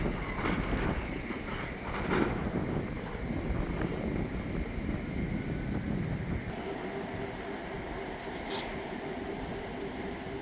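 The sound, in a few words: wind blowing outdoors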